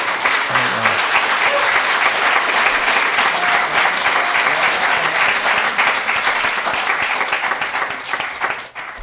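An audience at a live radio-hour music event applauds for a musician, a dense, sustained round of clapping that holds steady for several seconds before tapering off at the end.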